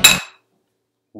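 Two beer glasses, a mass-produced lager and Smuttynose Old Brown Dog ale, clink once in a bright, close cheers toast that rings briefly before silence, with a faint voice starting at the end.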